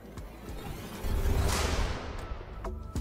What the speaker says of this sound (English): this particular hit sound that is very popular in Afrobeat music